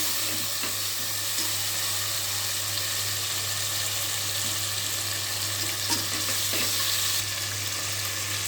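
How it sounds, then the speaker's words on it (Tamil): Tomatoes sautéing in a pan for tomato rice, a steady close sizzle and frying hiss running throughout with a few soft stirring scrapes, no voices. "தக்காளி நல்லா வதங்கணும்."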